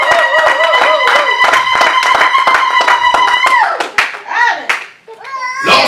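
A church congregation claps hands in a fast, steady beat to acclaim the Lord, loud and close, with sustained singing voices over the clapping that breaks off near the end into shorter vocal phrases.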